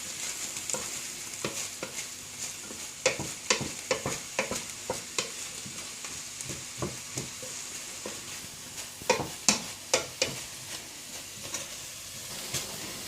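Food browns in a frying pan for spaghetti bolognese, a quiet steady sizzle under repeated irregular scrapes and knocks of a spoon stirring against the pan, with no talking.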